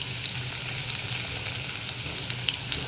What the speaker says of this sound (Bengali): এগুলোকে নেড়ে চেড়ে ভালো করে ভেজে নিব যেন কাঁচা গন্ধটা চলে যায়